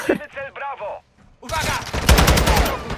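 Gunfire in Call of Duty: Modern Warfare II on the Black Gold map: after someone speaking, loud sustained bursts of automatic weapon fire crackle for the last half of the brief clip, close and continuous.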